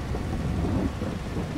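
Thunder from a storm in a farming simulator video game, a loud, low rumble that rolls on steadily together with the hiss of rain.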